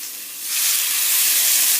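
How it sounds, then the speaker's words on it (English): Green beans in a hot pan give a loud rushing hiss of steam that swells suddenly after a softer start, continuous and close. "Let it steam for a quick second. See that? Get that little steam on there."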